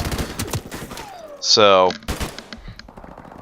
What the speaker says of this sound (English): you are able to put down a lot of fire